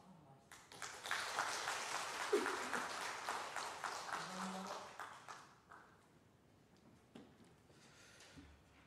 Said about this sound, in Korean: 우리 청중이 잘 될 수 있도록 우리가 박수 한번 합시다